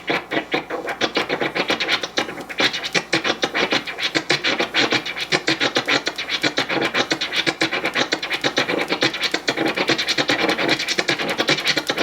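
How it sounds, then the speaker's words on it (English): Fast turntable scratching of a snare sample, worked by hand in quick rhythmic back-and-forth strokes that give a dense, gritty, continuous rasp, loud and close, with no talking. "now that I'm doing the snare, I'm going to go this really small amount, so watch."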